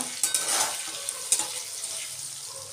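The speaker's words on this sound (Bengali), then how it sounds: "দিয়ে এখন বেশ লাল করে ভেজে নেব" Boiled shredded cabbage and potatoes with salt fry in a pan, a bright hiss of sizzling with a few sharp spatula scrapes and clinks near the start, close and fairly loud, then settling into steadier frying.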